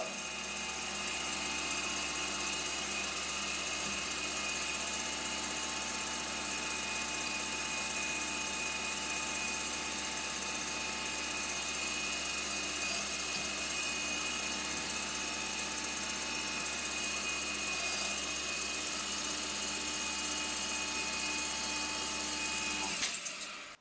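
A tool-post grinding wheel grinding the jaws of a Chinese three-jaw lathe chuck gives a steady, loud, continuous whine with a mechanical drone underneath. The sound runs unchanged for about twenty-three seconds and then stops abruptly.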